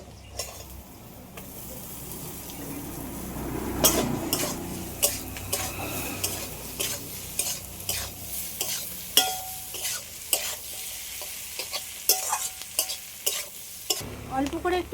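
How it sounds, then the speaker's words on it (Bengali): Snake gourd is stir-fried in fish oil with egg, a close, busy sizzle broken by repeated sharp scrapes and clinks of a spatula against the pan, growing into a steady rhythm of stirring strokes. "মাছের তেল আর ডিমটা ভালো করে ভেজে নিয়েছি এবার আমি চিচিঙ্গাটা দিয়ে দেবো"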